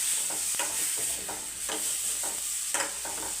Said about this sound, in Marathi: त्याच्यानंतर त्यात लगेच शेंगा पण घालून घ्यायचे आपल्याला आणि हे चांगलं परतून घ्यायचं